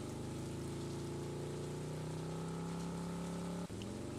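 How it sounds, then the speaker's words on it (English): Green rain falls in Stardew Valley, a dense steady hiss of rain layered with a droning hum that cuts off abruptly near the end, constant and fairly quiet. "Alright, there's a green rain effect over here."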